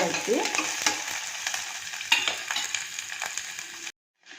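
Onion, ginger and garlic fry in hot oil, making a continuous close sizzle with steady stirring scrapes, then the sound cuts off abruptly.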